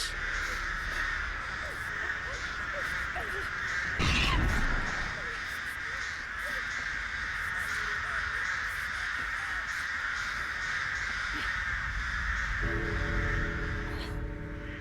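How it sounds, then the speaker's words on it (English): Crows caw repeatedly in the video game Dead by Daylight, harsh calls scattered over a steady ambient game hum, with a voice briefly heard near the end. "I shall repel these birds."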